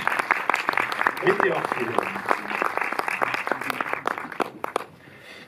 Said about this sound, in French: Vous n'avez pas encore applaudi